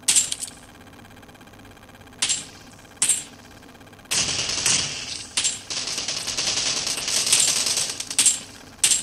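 Single-shot weapon fire in the PUBG mobile game, heard as a string of separate sharp cracks, some isolated and others in quicker clusters, moderately loud over steady game background noise, with no talking.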